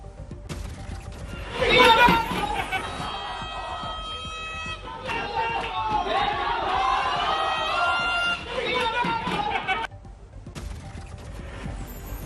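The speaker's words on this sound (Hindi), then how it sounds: "इसमें बैठक के दौरान ढोल ढपली की आवाजों के बीच एबीवीपी मुर्दाबाद की नारेबाजी भी सुनाई दे रही है" Students at a JNU meeting chant slogans amid dhol and daphli drumming, a loud, sustained mass of crowd voices with droning tonal chanting, swelling early, then holding steady before cutting off sharply near the end.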